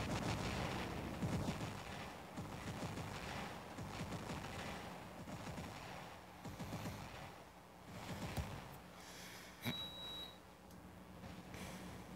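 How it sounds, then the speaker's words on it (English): Robot guns lay down cover fire across a riverbed in the War Robots game, faint bursts of shots and booms at uneven intervals, with a few electronic beeps and tones mixed in. "throw some cover fire across the riverbed"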